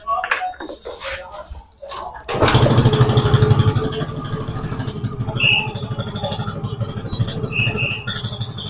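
A scooter with a newly replaced battery starts after a couple of seconds of quiet workshop noise, then settles into a steady, fairly loud idle that runs on to the end.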